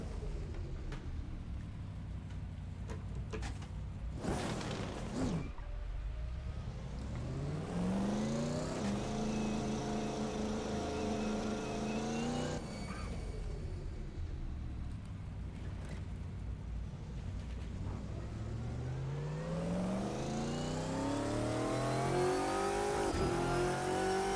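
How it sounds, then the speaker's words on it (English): A Porsche GT3 Cup car engine in rFactor 2 revs loud and close, climbing through gears in rising sweeps with a brief drop and lift before pulling hard again to the end. "Oh, love the sound of this car."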